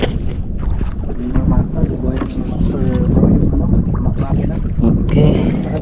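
A boat's motor runs on open water, a continuous close rumble with wind buffeting the microphone and brief voices breaking in over the engine noise.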